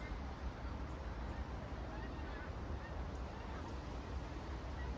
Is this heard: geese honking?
yes